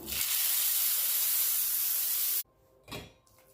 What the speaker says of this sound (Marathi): ही जी फोडणी आहे ती चटणीवरती घालून घ्यायची